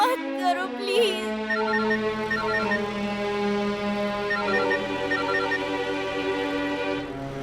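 A telephone ringtone plays on and on, unanswered, as a steady melodic tone repeating for the whole stretch at a fairly loud level. A voice is briefly heard near the start.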